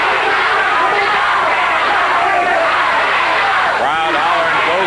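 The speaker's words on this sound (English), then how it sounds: "Crowd hollering, go King, go." Wrestling crowd at a CWA Memphis match hollering and cheering for Jerry 'the King' Lawler, a loud dense roar filling the whole stretch, with a commentator's voice over the top.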